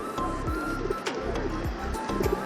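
Pigeons on a rooftop after rain coo close by in repeated rolling calls, one following another over a steady background hiss, with no talking.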